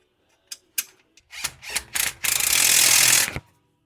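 Ratchet wrench clicking as it tightens the dipstick tube bolt on a car engine, a few short separate clicks building into a fast steady ratcheting run that stops abruptly, close and alone.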